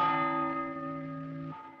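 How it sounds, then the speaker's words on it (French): A church bell in the 1931 film M tolls with a bright, ringing strike that hums and slowly decays. A second stroke follows about one and a half seconds later, clear and moderately near. "avec ce bruit de cloche plus prégnant"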